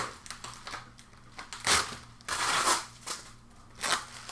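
Small diagonal cutters snipping and crunching through plastic packaging of a mini claw vending machine, a few close, quiet crackling cuts and crinkles with pauses between.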